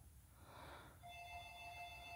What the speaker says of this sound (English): that's the phone. Someone's calling us.